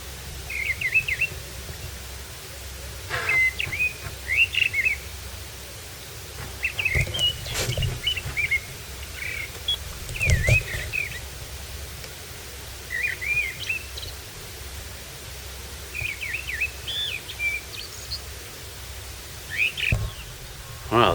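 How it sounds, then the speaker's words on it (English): A song thrush sings outdoors near the tidal waters at Wells-next-the-Sea, its short repeated phrases coming in bursts with pauses between, moderately distant over a low background rumble. "Listen to that thrush."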